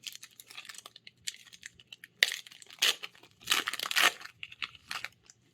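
A March of the Machine card booster pack being torn open by hand: crisp foil-wrapper crinkling and tearing in short, close bursts, louder toward the middle, with no talking.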